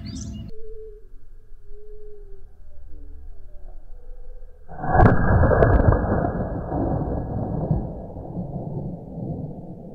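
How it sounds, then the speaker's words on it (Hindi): A homemade roll cap and matchbox bomb set in the middle of a road goes off with one loud blast, followed by several seconds of rumbling noise after quieter sounds. "हमने रोल कैप की मदद से कितना बड़ा वीआईपी बॉम्ब बनाया है।"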